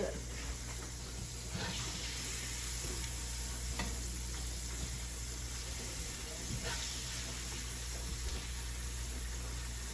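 Small pieces of mangrove snapper sizzle steadily in a hot pan, with scraping and stirring sounds as they are flipped, continuous and close.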